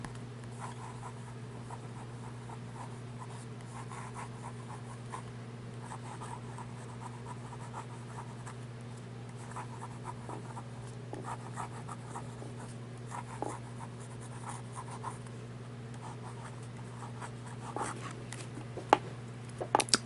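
Edison Collier fountain pen nib writing with Persimmon Swirl ink on paper, a faint, steady scratching of strokes over a constant low hum, with a few sharper taps near the end.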